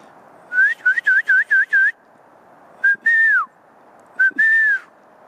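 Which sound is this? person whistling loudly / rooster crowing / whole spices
person whistling loudly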